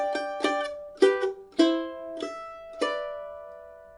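Mandolin in G playing double stops, six bright plucked two-note chords in an uneven rhythm with ringing sustain, close and clear with no voices.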